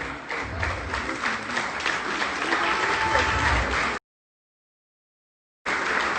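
A studio audience applauds a Next TV Star contestant named Derek, a dense, loud, even wash of clapping for about four seconds, a sudden silence, then the clapping returns.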